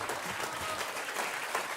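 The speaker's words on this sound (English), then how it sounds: "These men deserve a round of applause for everything they're doing." An audience applauds at an interactive celebration of regenerative agriculture, a dense, steady wash of many hands clapping that holds at an even level throughout, with no voices above it.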